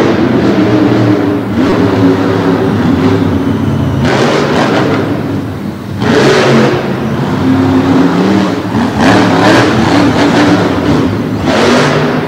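A monster truck engine roars and revs hard while driving on dirt inside an indoor arena at the Pennsylvania Farm Show Complex, loud and continuous with repeated surging bursts of acceleration.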